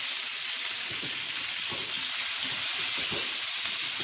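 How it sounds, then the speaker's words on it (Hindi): Chicken pastry filling mixed with chili sauce, soy sauce, chilies and garam masala fries in a pan, a loud, constant close-up sizzle and hiss with faint stirring scrapes and no voices. "चिली सॉस सोया सॉस और ये मिर्च गरम मसाला ये सब इकट्ठा मिक्स करके अब हम इसको फ्राई करेंगे"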